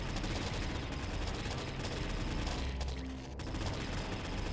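Sustained gunfire in the survival video game Triton Survival, a dense, continuous barrage of shots filling the whole stretch at steady loudness with a brief dip near the end.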